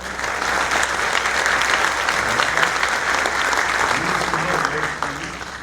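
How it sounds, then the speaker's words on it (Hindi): Loud, sustained applause from a large crowd at a drone technology expo in Bhopal, dense and steady throughout with no pauses. "जोरदार ताली वाली बजा के बताओ"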